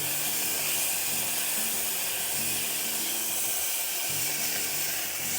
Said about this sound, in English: I'm going to put my bacon in. And my objective here is to cook the bacon